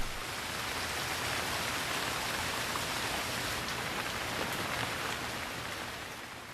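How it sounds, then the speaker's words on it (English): A heavy rain downpour during a storm, dense and continuous hiss of drops pounding surfaces, loud and close with no pauses, easing very slightly toward the end. "But sometimes storms become real downpours"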